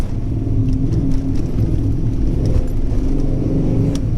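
Steady low rumble of an air-ride Foxbody Mustang 5.0 cruising down a bumpy, rutted highway, with the engine and road noise continuous and loud, and small rattles and knocks from the stiff suspension ticking through.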